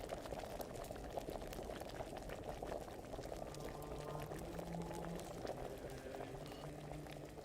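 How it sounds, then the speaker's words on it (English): A potion bubbles at a steady boil during brewing in Kingdom Come Deliverance, a quiet continuous simmer of popping bubbles with no voices over it. "Wait for it to stop boiling."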